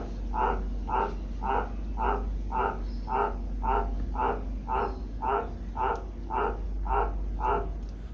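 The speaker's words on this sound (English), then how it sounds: "frog in that there barrel." A frog croaks from inside a barrel, a regular run of about fourteen evenly spaced, fairly loud croaks against a steady low background hum, with no talk.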